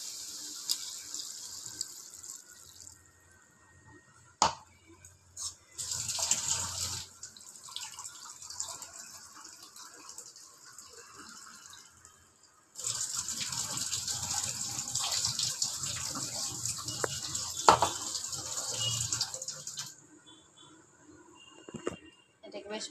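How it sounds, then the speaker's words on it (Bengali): Water is poured into a pan of bottle gourd and potato curry in two long, steady gushing bursts. Quieter clatter and stirring sounds come between and after the pours. "এবার আমি এর ভেতরে দিয়ে দেবো পরিমাণ মতন জল।"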